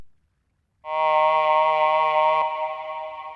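A synthetic wavetable voice from a Polyend Tracker sounds with reverb after a brief silence, holding a bright, buzzy, harmonically rich sustained tone. It cuts off abruptly and leaves a short reverberant tail.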